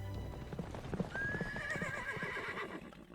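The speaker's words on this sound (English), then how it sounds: "Did she mean the horse sound?" A horse whinnies in a long rising neigh while hooves clip-clop in an even rhythm, fairly quiet and mid-distance, with no talk over it.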